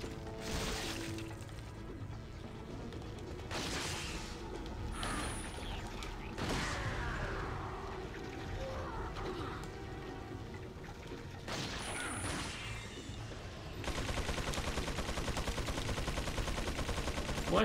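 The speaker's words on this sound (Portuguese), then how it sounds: "Pra não errar esse tiro e estourar o galão." Gunfire in the video game Resident Evil 4, with a few sharp shots and crashes, one aimed at a barrel, over a steady bed of game noise and music that grows louder near the end.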